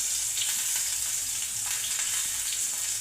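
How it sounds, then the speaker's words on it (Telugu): Chopped onions and tomato fry in hot oil for a Maggi omelette, giving a steady, even sizzle with no breaks and no voices. "ఇప్పుడు ఆయిల్ వేడెక్కించాక అందులో కొద్దిగా ఆనియన్స్, కొద్దిగా టమాటా"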